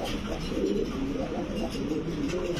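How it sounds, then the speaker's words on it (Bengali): Morasel fancy pigeons coo continuously in low, throaty, rolling tones, close by, with a faint murmur of background noise. "এই হচ্ছে দর্শক মোরাসেল কবুতর দেখেন।"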